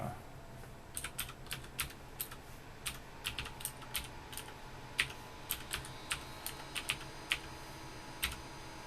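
Quiet keyboard typing during setup of a System76 Thelio desktop computer, irregular bursts of keystroke clicks with short pauses, close by over a faint low hum.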